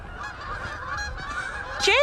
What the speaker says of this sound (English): Gooses.